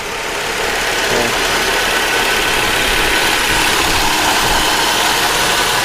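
A 1991 Toyota Soarer 2.5GT-T twin-turbo engine idles steadily with a smooth, even hum and light mechanical ticking, heard close and continuous with no talking.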